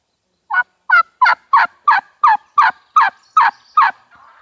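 A wild turkey gobbler gobbles in a steady series of about ten sharp, loud calls, close by and evenly spaced, with nothing else around.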